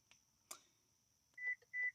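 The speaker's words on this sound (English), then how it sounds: "Beeps twice. It closes." Two short electronic beeps close together near the end of a car's rear hatch closing, after a soft click and a thump of the hatch shutting; otherwise quiet with a faint steady tone.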